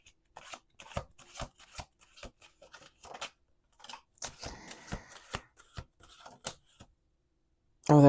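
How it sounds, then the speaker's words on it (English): A deck of tarot cards being shuffled, rapid papery riffles and flicks in bursts close to the ear, pausing briefly before a final louder thump at the end. "One last shuffle."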